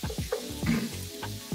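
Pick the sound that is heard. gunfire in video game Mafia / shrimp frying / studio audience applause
shrimp frying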